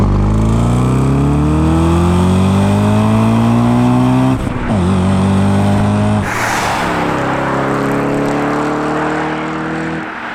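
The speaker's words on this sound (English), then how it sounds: "And we had the downpipes done, so does the car sound any better?" An Audi B7 RS4 V8 fitted with new downpipes revs loudly and close by, its engine note climbing, dipping sharply, then settling into a steady high idle.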